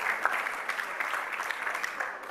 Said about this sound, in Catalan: Com es nota que en Mauri és qui arrenca els aplaudiments, eh?